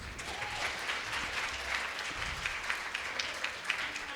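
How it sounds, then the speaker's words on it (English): Soft, fairly distant round of applause from an audience at a Bharatanatyam arangetram in Jacksonville, even clapping that continues steadily without a break. "So welcome Manjula with a round of applause,"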